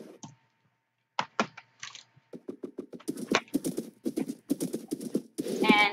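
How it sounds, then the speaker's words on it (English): A horse in Minecraft, Windows 10 Edition, gallops with rapid, close clip-clop hoofbeats that speed up into a steady run, with a brief whinny and some keyboard clicking mixed in. "And he is unbelievably fast, my horse."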